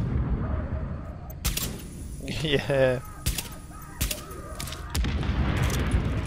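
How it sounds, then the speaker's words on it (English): Tom Clancy's The Division video game plays with sharp explosive booms and bursts of gunfire that crack out at intervals over a low rumbling background, along with a short quick rattle of shots. A person speaks briefly. "God, those explosions."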